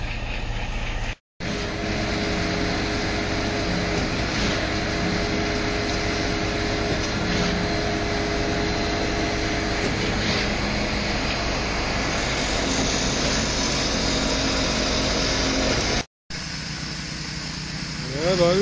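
A concrete power trowel hums steadily with a droning motor while smoothing a fresh garage floor early in the morning, a constant mechanical whir that stops briefly twice.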